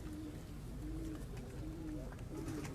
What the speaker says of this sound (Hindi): ये कबूतर आए थे